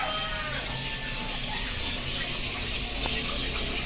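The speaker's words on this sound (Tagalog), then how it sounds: "testing natin yung gripo niya" Water runs from a bathroom faucet being tested during a toilet-room renovation, a steady, continuous hiss and splash at close range with faint background sounds.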